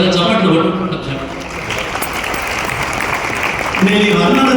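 Audience clapping during a Telugu spiritual discourse: a dense, steady wash of many hands that runs the full length, with a voice speaking over it at the start and again near the end.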